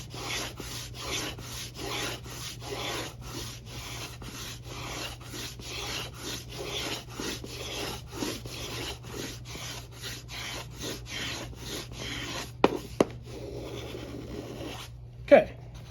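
Hand plane shaving wooden back braces on a guitar, a steady run of rhythmic rasping strokes close up, with a couple of sharp knocks near the end.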